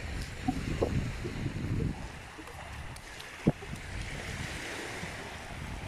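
Waves washing up along a shore, soft and steady under wind noise, with one brief louder splash near the end.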